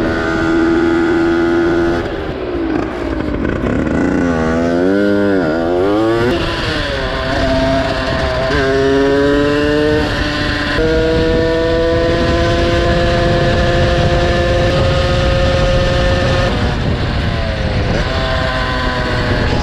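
Yamaha DT 90 two-stroke motorcycle being ridden after years of storage, a loud buzzing engine rising and falling through repeated revs and gear changes, steady and close throughout.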